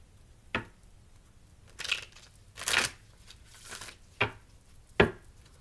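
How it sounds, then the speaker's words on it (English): Tarot cards shuffled by hand, a handful of soft, brief riffling and slapping bursts spaced a second or so apart, close and quiet, with no talk. "One more shuffle."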